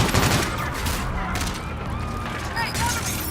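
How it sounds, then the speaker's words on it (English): Gunfire in Call of Duty: Infinite Warfare, with a burst of shots at the start followed by continued battle noise, explosions and shouted voices in the mix. "Open fire!"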